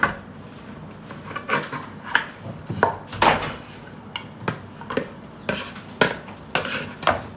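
Spoon clinking and scraping in a pan while mixing a caramel pork dish in a home kitchen, a series of sharp, irregular taps and knocks close by, with no talk.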